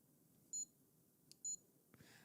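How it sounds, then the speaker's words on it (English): Two short electronic beeps from a device, evenly spaced about a second apart, clear and close over quiet room hiss, followed by a faint rustle. "It's beeping."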